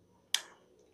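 A single crisp, small click from a Borneo X watch bezel snaps out once, close and fairly loud over a quiet background, then fades quickly.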